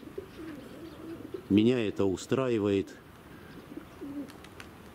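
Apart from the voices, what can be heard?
pigeons cooing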